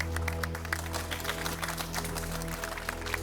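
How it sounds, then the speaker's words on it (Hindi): A crowd at a public gathering gives warm, steady applause, dense clapping that runs continuously at moderate level over a low background hum. "आप इनके इस अति साहसिक कदम के लिए, उत्साहवर्धन के लिए तालियों से इनका स्वागत करें"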